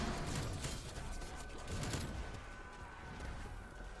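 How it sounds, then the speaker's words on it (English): Gunfire in Call of Duty Cold War Zombies, Die Maschine map: a rapid, continuous rattle of automatic shots at moderate-to-faint level, fairly even and dense across the short stretch. "Finish him off with the gun here"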